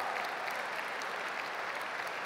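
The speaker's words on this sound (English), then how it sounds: "take a quick round of applause" Dense, steady applause fills a large conference hall at a general session in Berlin, with many hands clapping at once in a continuous wash of sound at an even level.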